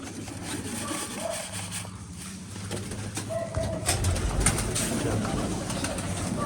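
Pigeons coo softly while being fed scattered grain outdoors at a rural Punjabi loft, low steady cooing and rustling close by, with faint voices now and then in the background.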